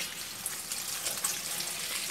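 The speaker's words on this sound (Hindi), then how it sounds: "फ़ौरन ही हम इसके ऊपर ठंडा पानी डाल देंगे" Cold water runs steadily in a hissing stream over freshly drained macaroni in a colander, a continuous splashing pour with no break.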